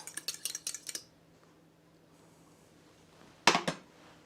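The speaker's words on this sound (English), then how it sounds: "So we're beating the egg a little bit." An egg is beaten in a bowl, with a quick run of bright metal-on-bowl clinks, a quiet pause, then a second short burst of clattering strokes.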